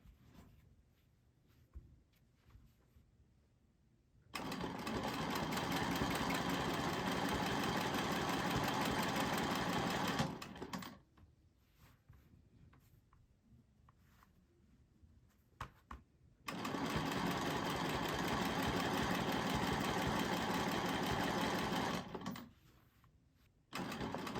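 A sewing machine stitches in two long, steady runs of dense, rapid mechanical whirring, loud and close, separated by quiet stretches with faint clicks and handling sounds.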